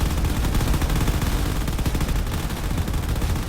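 Continuous, dense turret gunfire in a drone combat video game, a loud rapid clatter of shots that blur into a nonstop barrage throughout.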